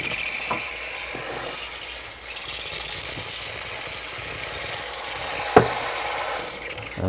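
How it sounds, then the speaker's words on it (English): Espresso machine steam wand steaming oat milk, a loud continuous hissing rush with a faint high whine late on and a few brief knocks. "And then I'm gonna start doing the steaming."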